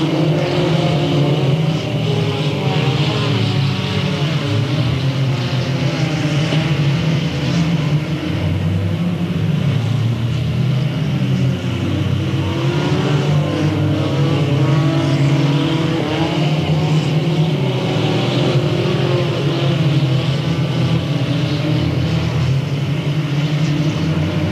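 Race cars roar around the Delta Speedway track, a dense continuous engine drone with shifting revs from several cars running together at close range and high volume throughout.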